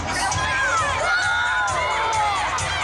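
A crowd cheers and shouts at a dog race, with children's voices and whoops rising and falling in a loud, continuous wash of excited noise.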